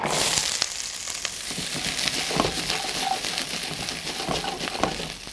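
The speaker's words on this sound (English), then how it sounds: "onions, carrots, parsnips, celery, and mushrooms, and we're just going to put these down in the pan" Steady crackling sizzle of onions, carrots, parsnips, celery and mushrooms frying in a hot pan, with a few clinks of utensils scattered throughout.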